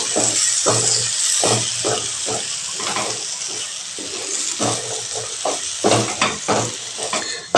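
Egg bhurji fries with a loud, close hiss in a pan while a spatula stirs and scrapes it in repeated strokes, the sizzle continuous beneath the uneven stirring, with no voices.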